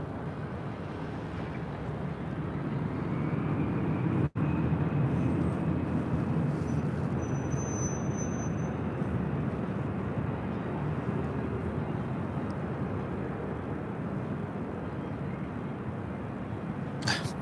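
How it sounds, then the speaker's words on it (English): Airbus A350 in special livery taking off at LAX, a broad steady jet roar rising and holding at moderate distance across the whole stretch, with faint background chatter. "Let's see, special livery A350 up next"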